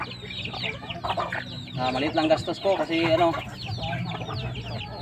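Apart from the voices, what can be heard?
chickens clucking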